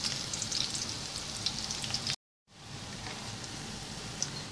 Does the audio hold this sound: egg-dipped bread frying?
yes